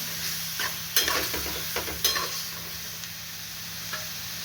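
Green peas stirred into a frying vegetable masala give a continuous low sizzle, broken by a few distinct scraping and clattering strokes of the spoon against the pan, close and without talking.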